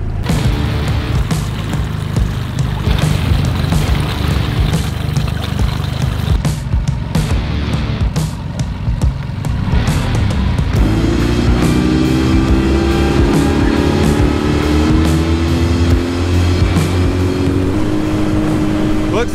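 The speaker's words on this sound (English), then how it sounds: "Sounds like the motor is pretty close to its max RPM." Yamaha 9.9 outboard motor pushing a jon boat near full throttle, a loud, steady close drone with water rush that rises in pitch as the engine climbs toward its maximum RPM.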